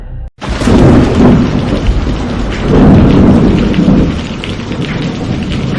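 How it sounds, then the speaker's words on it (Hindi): Thunderstorm with heavy rain as a sound effect in a rural village story set at night over a farm field; loud, dense rain hiss with deep rolling thunder swelling twice, continuous after a brief silent gap at the start. "उसी रात तूफान आया"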